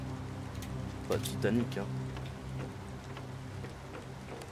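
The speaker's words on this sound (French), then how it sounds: "hop, on est parti sous la pluie" Rain falls in the survival game Planet Crafter, a soft constant patter with scattered ticking drops over a low hum, while someone speaks briefly in French partway through.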